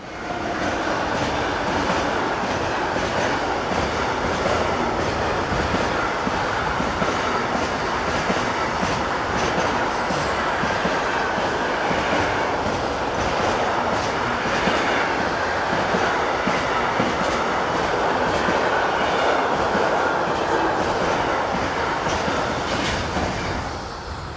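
A long freight train carrying lorry trailers rumbles steadily past, wheels clattering on the rails with faint squeals, continuous and fairly close throughout.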